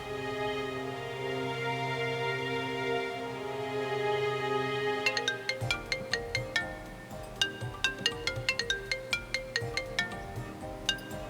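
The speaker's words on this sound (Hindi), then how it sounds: "मैं फोन करता हूँ ना।" A phone ringtone plays: a sustained melodic tone at first, then a quick, rhythmic run of plucked-sounding notes repeating.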